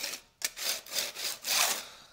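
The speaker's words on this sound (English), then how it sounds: "the first thing we're gonna do is scrape." Scraping a brick wall by hand to prepare it for paint, a series of harsh, close rasping strokes in uneven bursts, rising to a longer, louder scrape near the end with no talking.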